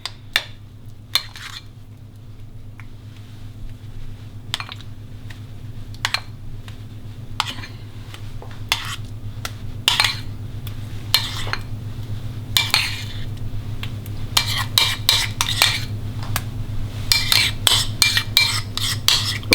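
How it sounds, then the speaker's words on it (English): A spoon dollops cream cheese onto a square of pastry, with repeated soft scrapes and clinks of metal against a bowl, close and steady, growing busier toward the end over a low kitchen hum. "put dollops of the cream cheese all around the pastry"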